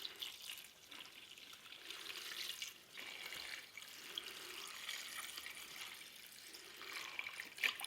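A CPU cooler being washed with degreaser and deionized water, a soft continuous splashing and trickling of water with gentle surges, faint and close, with no voices.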